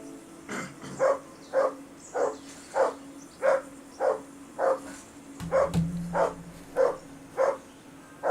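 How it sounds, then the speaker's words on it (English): A dog in the video game Kingdom Come: Deliverance barks steadily in a regular rhythm, about a dozen sharp barks, over a faint background hum with a brief low rumble partway through. "Whistle at that mutt of yours to stop barking!"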